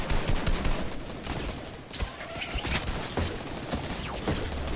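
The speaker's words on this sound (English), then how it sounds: "Yo, somebody's shooting me now." Rapid automatic gunfire from the Fortnite video game, dense overlapping bursts of shots sustained through the whole stretch, loud and busy with several weapons firing at once.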